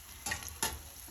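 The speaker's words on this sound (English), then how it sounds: "I have this guy, the spider, and I'm just gonna move my fritters around a little bit" Apple fritters fry in hot oil while a metal spider nudges them around, giving a steady close sizzle broken by two brief scraping, splashing strokes in about a second.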